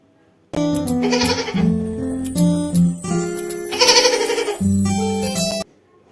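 A series of loud, wavering goat bleats, close and clear, repeated in several drawn-out calls with brief gaps, no talking.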